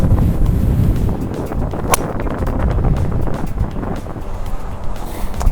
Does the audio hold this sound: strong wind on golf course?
yes